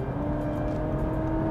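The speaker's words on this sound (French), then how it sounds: "J'ai besoin de dépasser. Je passe en mode sport et tout de suite" A new Honda Civic switched into sport mode accelerates hard to overtake on the road, its engine drone rising steadily and heard loud and close from inside the quiet cabin.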